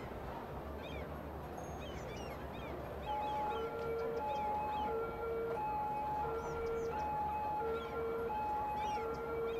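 Wailing ambulance sirens from the city-building game Cities: Skylines, repeated rising-and-falling tones that swell in from about three seconds and keep cycling steadily over a dense bed of traffic and ambient city noise.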